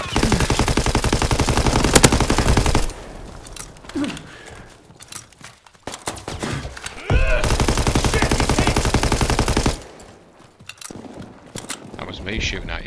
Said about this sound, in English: That was me shooting at you, sorry.